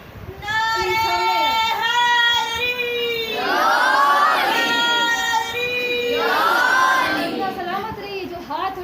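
A crowd at a Shia religious majlis in Urdu chants slogans in unison, loud and close, rising in two swelling waves of many voices including children.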